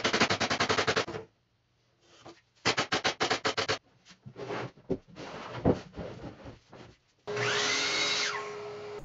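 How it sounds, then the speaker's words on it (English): Pneumatic stapler firing crown staples into 1/8-inch hardboard on a dresser back, heard as rapid bursts of sharp repeated shots separated by pauses, close and loud, ending with a steady compressor-like whir. "start shooting in several crown staples into the 1/8-inch hardboard that backs it"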